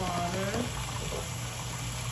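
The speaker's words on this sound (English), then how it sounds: "We are putting water inside of the fish." Water filling a toy robot fish, a steady gushing, bubbling pour heard close and continuous, with a voice and tonal sounds early on.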